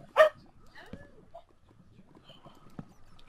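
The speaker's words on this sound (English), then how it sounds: "Dog." A single loud dog bark from a wolf-dog in a Minecraft UHC survival game bursts out near the start, followed by quieter scattered in-game footsteps and noises.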